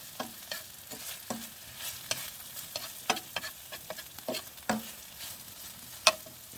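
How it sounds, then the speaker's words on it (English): Food cooking in a pan on a camping stove inside a tent during a wild camp, with soft sizzling under intermittent scraping stirs and clinks at close range and no talking. "I'm cooking on the stove."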